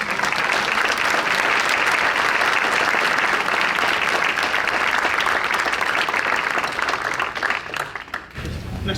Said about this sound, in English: please give our panelists a good round of applause